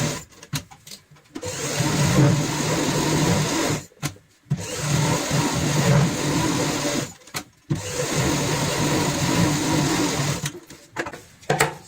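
A sewing machine stitches along marked lines on cushion cover fabric, running in three long, steady, loud bursts separated by brief pauses, close up and with no talking.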